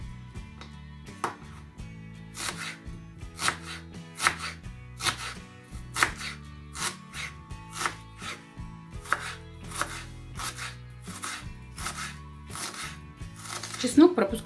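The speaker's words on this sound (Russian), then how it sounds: "Лук нарезаю кубиком." Onion being diced into cubes with a knife on a cutting board for bulgur with vegetables, a long run of crisp rhythmic chops, close and clear, with a brief voice near the end.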